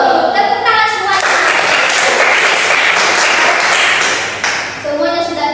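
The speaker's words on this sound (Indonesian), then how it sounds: "tepuk tangan semuanya." Schoolchildren in a classroom clap their hands together in a dense, sustained burst lasting several seconds, loud and close, with voices audible at the start and end.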